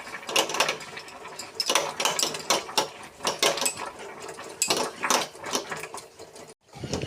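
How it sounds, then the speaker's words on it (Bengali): Boiled taro leaves are mashed in a pot with a hand masher, making a steady run of close, rhythmic squelching thumps that stop briefly near the end before starting again. "এখন দিয়ে দিচ্ছি গুঠানি দিয়ে গুঠা"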